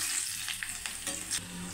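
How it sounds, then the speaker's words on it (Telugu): Hot oil sizzles steadily with crackling pops as garlic and tempering spices fry for an Andhra-style radish chutney, close and clear, with a few stirring scrapes and no voices. "తాలింపు వేగాలి."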